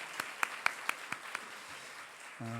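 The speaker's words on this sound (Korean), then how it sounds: "우리 하나님께 감사의 박수 올려드리겠습니다" A church congregation gives thanks at a Sunday worship service with a short burst of sparse, separate claps that fade quickly, leaving quiet room noise.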